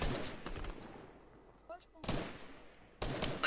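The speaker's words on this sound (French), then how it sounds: "Ah, des tirs là-bas." Video game gunfire comes in sharp, loud bursts: a rapid volley at the start, another around the two-second mark and a third near the end, with quieter gaps between.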